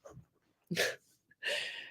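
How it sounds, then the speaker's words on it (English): A quick inhale followed by two sharp, bursting sneezes close to the microphone, with brief quiet between them. "See how she's just always sneezing in here."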